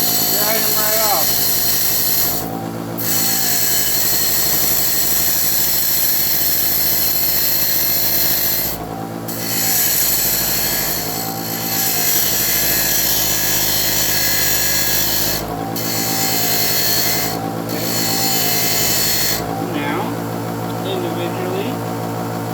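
A power tool grinds bra underwires to round off edges and burrs, a steady loud whine running almost throughout with a few brief drops in pitch and intensity, plus voices in the background.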